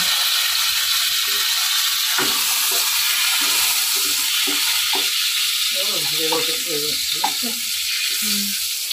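Eggplant pieces fry to medium in a little oil for a spicy khoyra fish curry, giving a steady close sizzle with intermittent clicking and clattering from stirring.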